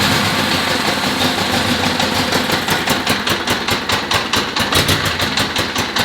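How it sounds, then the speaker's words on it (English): Honda GL1000 motorcycle engine, choke pulled, firing on a cold start and settling into a steady, loud idle with a rhythmic pulsing throb and mechanical clatter throughout. "We're just gonna simply come here, pull the choke, ignition, and it should pop right into life."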